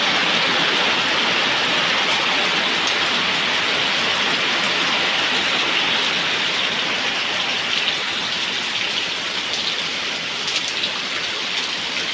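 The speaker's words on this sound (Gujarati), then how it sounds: "જોતા વરસાદ પડે" Heavy rain pours down on a village in a dense, steady hiss, unbroken throughout with no voices.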